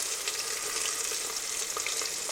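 Green chillies and onion sauté in a pan, a quiet, continuous sizzle with light stirring sounds, faint and fairly even throughout.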